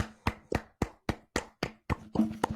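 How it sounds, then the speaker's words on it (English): Podcast hosts clapping their hands in a steady, evenly spaced run of about nine sharp claps, close and fairly loud, with no talking. "Can we clap it up for him? Yeah, we'll clap it up for him."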